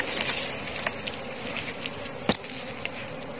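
Wild honey bees swarm around a forest hive in Kon Tum, Vietnam, one holding seven layers of honeycomb. They give a faint, steady buzzing drone with soft crackles and one brief, sharper snap partway through.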